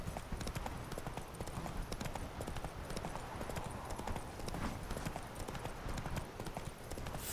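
A horse gallops in The Witcher 3 video game, its hooves drumming in a steady, rapid rhythm throughout, loud and close, with a faint voice briefly in the background.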